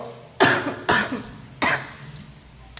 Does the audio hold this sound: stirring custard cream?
no